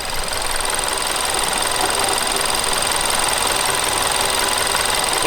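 A VW Golf Mk6 engine with a worn timing chain runs steadily, giving a continuous rattling, diesel-like clatter with a high-pitched whine on top, close and unbroken with no talk.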